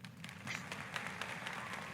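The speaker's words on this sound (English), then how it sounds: "They're cheering for you, Steve." Applause and cheering sound effect plays faintly on a podcast, a steady wash of many hands clapping with crowd noise, lasting throughout without clear talk.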